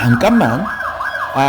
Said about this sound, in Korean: 여러분들 지금 저 밖에 앰뷸런스 소리가 좀 들리죠?